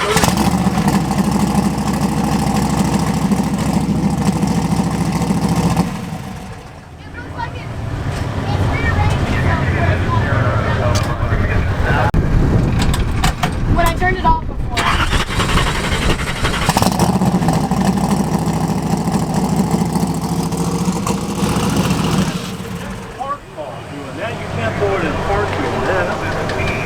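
A drag racing car's engine, at Drag Week 2022, runs loud and rough with repeated revs, cuts out briefly twice and then picks back up, while people talk nearby.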